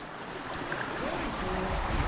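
Water spills over a rock pour-off into a pool in the canyon of Death Hollow, a steady rushing wash that builds slightly in loudness, with no talk.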